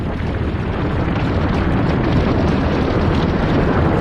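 The explosive eruption of Mount Vesuvius in 79 AD, rendered as a continuous, loud, rumbling roar of volcanic blast that fills the whole span without pauses or voices.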